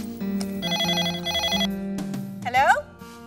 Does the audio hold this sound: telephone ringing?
yes